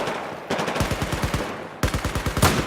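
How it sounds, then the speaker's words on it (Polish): Rapid bursts of gunfire from a Pershing tank in Battlefield 4, sharp, regular shots in two quick strings separated by a brief gap, loud and close. "O kurde, ale go ktoś strzela. Z Pershinga."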